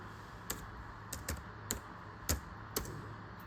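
Computer keyboard typing while entering names into a Python program, a handful of sharp, separate key clicks at an uneven pace, close and clear against a steady low background hum.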